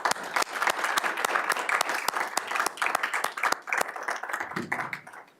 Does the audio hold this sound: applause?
yes